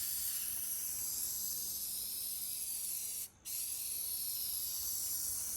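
Spray primer hissing steadily from a can onto the stripped bumper of a 1966 International Harvester truck, a close continuous spray with one brief pause near the end before it resumes.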